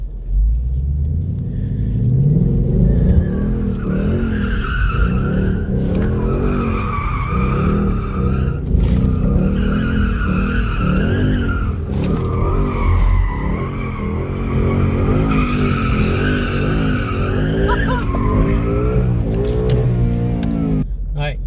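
A Ford Mustang GT 5.0 drifting in first gear with traction control fully off, loud tire squeal and skidding over a steady revving engine rumble that continues throughout, with surges as the car slides.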